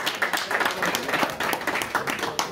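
Audience at a literary conference in Marseille clapping in thanks, a fairly small group with distinct individual claps in an uneven patter, moderately close.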